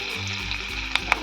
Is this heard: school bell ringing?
no